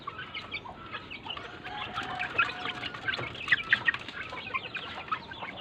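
A backyard flock, a hen with her chicks and a rooster, clucks and cheeps in soft, irregular bursts at moderate distance, with some wing flutter and no talk.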